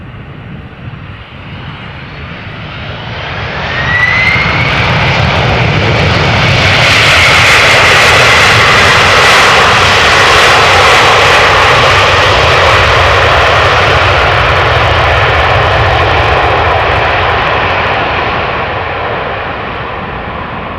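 An airliner landing at Amsterdam Schiphol roars with reverse thrust. A broad engine rumble swells after a few seconds, holds loud and steady for most of the clip, then slowly eases off. No one speaks.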